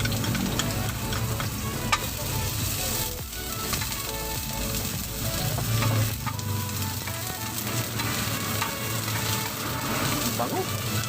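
Chopped onion sizzles loudly in hot oil in a pan, a dense steady frying hiss with occasional stirring scrapes, the start of a salted egg dish.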